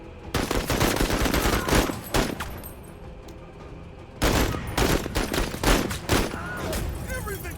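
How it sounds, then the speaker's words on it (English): Video game gunfire in rapid bursts and sustained automatic volleys, loud and dense, broken by a short lull before another heavy barrage resumes. "if you're gonna shoot at me, I'm gonna shoot back."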